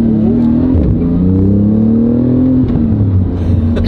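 A Porsche GT2 RS engine blips and revs hard through a PDK downshift in manual mode, a loud close rumble that rises and falls in pitch as the gear drops.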